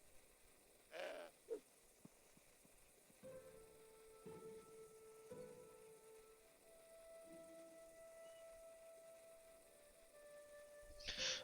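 Goat bleating in the Broken Sword 5 video game: a couple of short, bright calls early on, then a long, thin, wavering bleat that trails off, with a final burst at the end over quiet game ambience.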